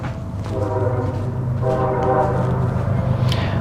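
A train goes by, a sustained rumbling pass with a tonal horn blast that swells in the middle, fairly loud and steady, with no one talking.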